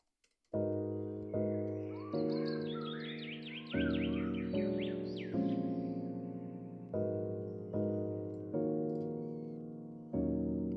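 Bird chirps and tweets layered over a sustained looping synth chord in a music track, the chirps clustered in the middle, sitting above the repeating pulsing notes, with no talk.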